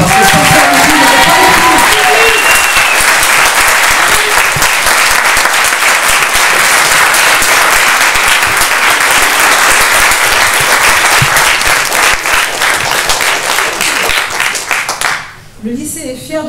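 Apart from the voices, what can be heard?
audience applauding Sister Lydie at film premiere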